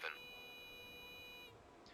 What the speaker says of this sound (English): This beeping's really annoying me.